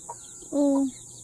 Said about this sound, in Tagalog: Nandun sa labas ang mga sisiw.